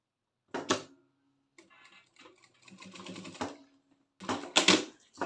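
A sewing machine stitches bias binding onto a toiletry bag in several close bursts of rapid, rattling mechanical clatter, separated by short pauses and softer handling noises.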